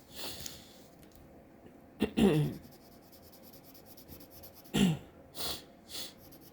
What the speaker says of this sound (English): I'm so sorry, y'all, with the sniffling in this video.